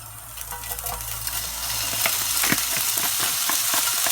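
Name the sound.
bacon lardons sizzling in a wok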